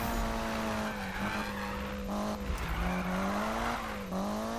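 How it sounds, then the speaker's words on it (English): A Mitsubishi Lancer Evo 9 drifts in Need for Speed 2015, its engine holding a steady loud drone while the tires skid and squeal continuously for several seconds. "You can definitely get this thing to drift really well."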